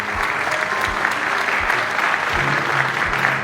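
An audience at a Congress minority department event for Maulana Abul Kalam Azad's birth anniversary gives loud, dense applause to welcome guests, a continuous wash of clapping with a few rhythmic low thumps beneath.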